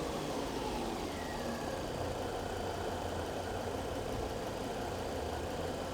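A Volvo S40 engine idles in a workshop during diagnosis, holding a steady, continuous low rumble at moderate volume with no talking.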